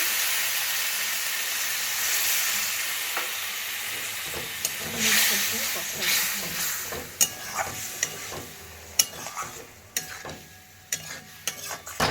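Water hits a hot pan of simmering curry and bursts into a loud, broad steam hiss that fades over a few seconds into softer bubbling with scattered sharp pops and clicks.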